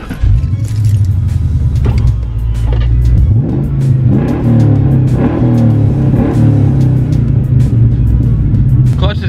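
A stock Ford Mustang GT V8 with a manual clutch and a worn throttle bearing rumbles steadily from inside the cabin while driving, with the low engine note rising as it accelerates, close and loud throughout, under a voice.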